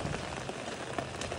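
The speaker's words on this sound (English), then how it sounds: "Raining again." Steady rain patters on the surroundings along the Appalachian Trail during a thru-hike, a dense, even hiss of drops at low level with no voices.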